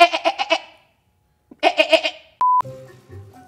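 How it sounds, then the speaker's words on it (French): Goats in a field give several close, loud bleats in two quick clusters, separated by a silent gap, followed by a sharp steady electronic beep and fainter scattered rustling. "As-tu vu là-bas les belles chèvres?"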